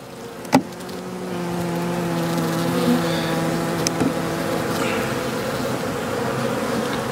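Honey bees buzzing steadily around an open hive frame during colony equalizing, a close, continuous droning hum with one brief sharp knock near the start.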